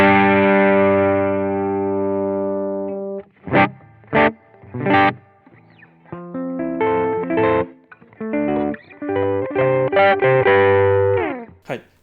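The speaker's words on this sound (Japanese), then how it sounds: "マックスにするとここまでリバーブがかかるので" An electric guitar plays through a BOSS FDR-1 Deluxe Reverb pedal with the reverb at maximum, opening on a long sustained chord and moving into plucked notes and chords that trail into heavy, washy decay.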